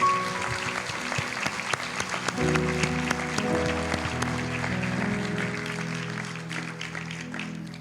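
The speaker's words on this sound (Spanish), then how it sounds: "Fuerte aplauso para el Señor." A church congregation applauds for the Lord, with scattered sharp claps over a sustained organ or keyboard chord that swells in partway through.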